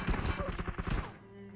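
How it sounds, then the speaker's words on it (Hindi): A quick burst of muffled gunfire from a suppressed weapon in BGMI (PUBG Mobile) gives several close, rapid thumps that stop after about a second, leaving a faint background hum. "अब भाई फायर होता है और सप्रेसर के कारण मेरे को इतना आइडिया नहीं हुआ कि फायर कहाँ से हुआ।"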